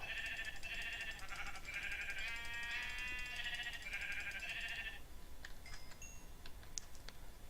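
Sheep bleating in a video game while a castle is built, a run of several loud, wavering bleats close together, followed by faint clicks and ticks after they stop.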